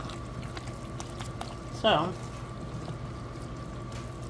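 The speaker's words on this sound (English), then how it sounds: "I want to definitely cover this with my water" Water poured into a pot of lentil and farro vegetable soup, a brief splashing gush in the middle of the clip, with a voice speaking over light kitchen background noise.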